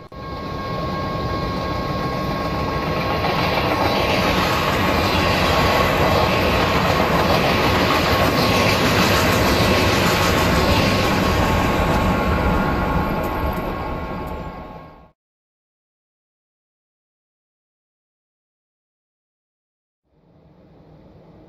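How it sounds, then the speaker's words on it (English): A Metra commuter train of bi-level gallery cars, led by cab car 8526, running from Aurora to Chicago in Train Simulator, rumbles past loudly and steadily with clattering wheels for about fifteen seconds before cutting to silence. "led by Matra Gallery Bi-Level Cab Car number 8526 from Aurora, Illinois to Chicago, Illinois"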